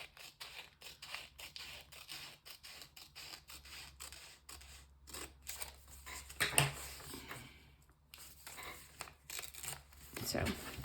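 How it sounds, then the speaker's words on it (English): Paper journal pages being cut with scissors, a run of crisp snipping and crinkling strokes close up, with a speaking voice over parts of it. "So don't be afraid to cut your journal"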